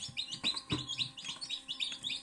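Newly hatched chicks in an incubator chirp constantly, with many close, high, rapid peeps overlapping in quick bursts and no voices.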